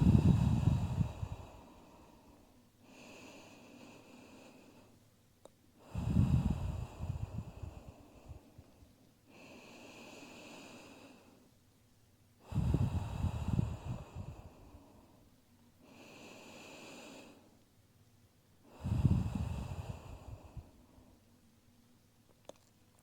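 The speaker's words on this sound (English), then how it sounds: "Taking 4 deep breaths here." Deep breaths during a gentle yoga stretch: four slow cycles of close, airy inhales and longer, softer exhales, even and unhurried, with no talk.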